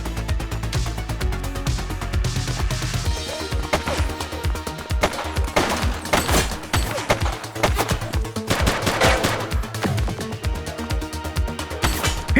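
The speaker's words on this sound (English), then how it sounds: "He's shooting!" Gunfire rattles in The Precinct police video game, rapid volleys of shots cracking in dense, irregular bursts over a low rumbling backdrop, loud and close.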